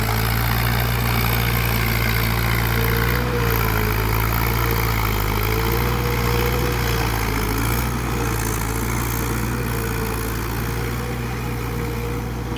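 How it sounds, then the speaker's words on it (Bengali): A Mahindra tractor pulling a rotavator through a low-lying paddy field after harvest, its engine a loud, continuous low drone with a steady mechanical rumble and no break, with no voices. "এখানে ট্র্যাক্টর দিয়ে জমিতে চাষ দেওয়ার কাজ চলছে।"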